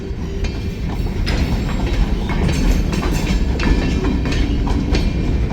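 A train passes along railroad tracks with a steady, loud rumble and rhythmic clicking of wheels over rail joints, continuous and close throughout.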